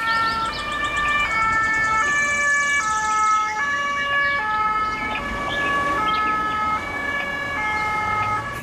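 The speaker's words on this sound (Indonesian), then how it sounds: "ternyata ini mobil ambulan." A toy ambulance siren wails in a repeating two-tone pattern, loud and steady, with no voices.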